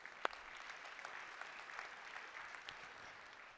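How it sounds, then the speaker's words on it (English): Applause from a conference audience at Nutanix .NEXT 2019 in Copenhagen, faint and distant, a steady patter of clapping with one sharp clap near the start. "So again, a big round of applause for Julie."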